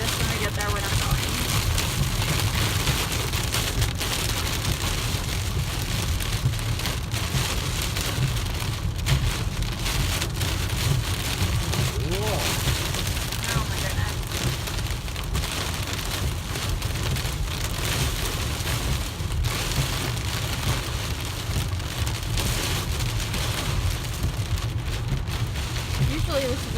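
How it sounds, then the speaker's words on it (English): Heavy storm rain pours steadily and loudly, heard from inside a vehicle on a drive toward Six Flags, a dense unbroken roar with no break across the whole stretch. "if it's raining like this when we get there, we're not going."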